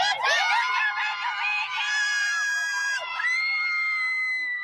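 A Little League parade crowd, heavy with children's voices, screams and cheers in a loud, continuous, high-pitched roar that swells and holds for several seconds.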